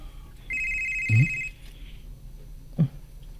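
A cellphone rings with a steady electronic tone for about one second, loud and close, with faint thumps and background noise around it and no talking.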